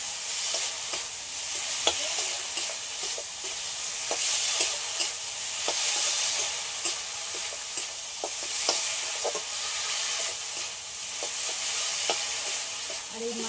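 Ginger and garlic paste frying in a pan with fish bones and melted tomato, a continuous close sizzle broken by repeated sharp stirring clicks and scrapes, no voices.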